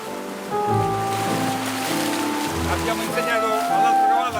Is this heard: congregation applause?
no